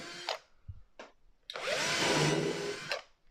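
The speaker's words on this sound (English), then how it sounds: "from that side I know I can go straight into there and countersink" A power drill countersinks screw holes in a reclaimed scaffold board, giving a few short whirring bursts followed by one longer, louder run of drilling close by.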